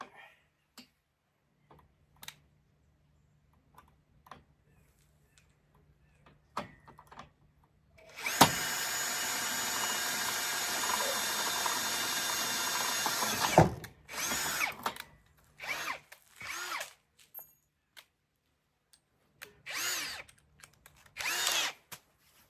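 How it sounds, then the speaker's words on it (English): A power drill pre-drills holes, whirring steadily for about five seconds, followed by several shorter bursts of screwing with quiet gaps between them, assembling a wooden gate kit. "So we pre-drill our holes and then screw it all together."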